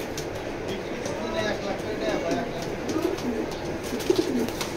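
Pigeons in a pigeon loft give soft, low coos in short repeated phrases, growing clearer toward the end, with voices murmuring in the background.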